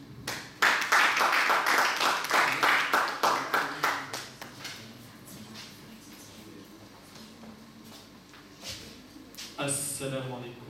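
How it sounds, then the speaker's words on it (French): A small audience claps in a quick, irregular burst that fades after a few seconds, followed by a quieter stretch with voices and a brief rustle near the end. "Veuillez applaudir, s'il vous plaît,"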